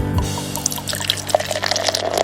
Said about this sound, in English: He's pouring us some more root beer